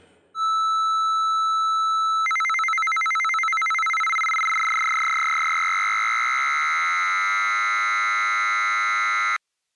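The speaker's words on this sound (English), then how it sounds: "The sound you just heard is the sound of FSK tape sync." A steady electronic tone shifts into a harsh, warbling two-pitch data signal that buzzes continuously for several seconds, then cuts off abruptly.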